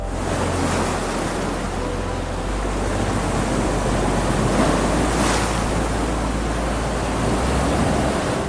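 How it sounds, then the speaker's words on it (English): Rough sea waves surging around an OBS monitoring buoy at an aquaculture site: loud, continuous roaring surf and wind noise with a deep low rumble, steady throughout, no voices. "to handle rough seas just like this"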